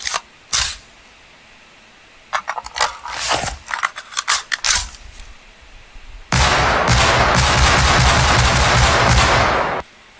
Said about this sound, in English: let's look at the animation and the sound for this new gun